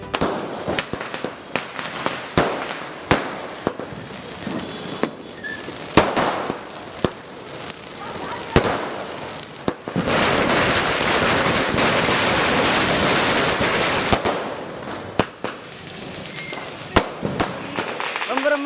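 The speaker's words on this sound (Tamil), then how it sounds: "வண்ண வண்ண வான வேடிக்கை பட்டாசுகளால் சென்னை நகரமே ஜொலித்தது" Repeated sharp bangs and crackles from a night-time Deepavali fireworks display in Chennai burst at irregular intervals, with a dense stretch of continuous crackling in the middle; loud and close, with faint voices in the background.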